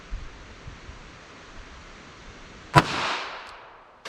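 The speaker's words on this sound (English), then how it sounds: "First up, we're going to try the 380 ACP and see how this does for velocity and accuracy." A single sharp .380 ACP gunshot fired from a revolver 5 yards from a target cracks out loudly, followed by a short echoing tail, with quiet ambient noise before it.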